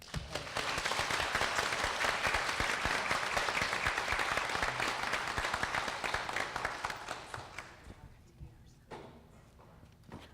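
Audience applause for Asia, a domestic violence survivor, at a live community event: dense, sustained clapping from a sizable crowd that tapers off into a few scattered claps and quiet.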